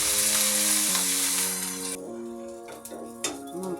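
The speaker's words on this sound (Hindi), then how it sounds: "अब मैं चने के दाल को भी डाल देती हूँ इसमें भुनने के लिए।" Chana dal roasts in a pan with a bright hissing sizzle for about two seconds before it drops to a faint crackle, with steady musical tones playing throughout.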